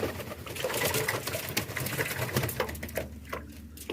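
Pigeons bathe in water, with dense splashing and fluttering wing flaps close by, sounding busy and continuous and growing more scattered toward the end.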